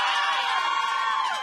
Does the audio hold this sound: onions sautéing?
no